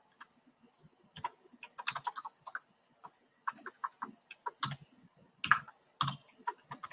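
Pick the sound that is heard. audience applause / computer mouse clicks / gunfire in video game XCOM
computer mouse clicks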